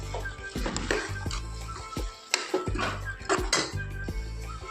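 Spoon clinking and scraping against a pan while red chilli and coriander powder are stirred into vegetables for a vegetable and keema chakna, a steady run of close metallic knocks with no talk.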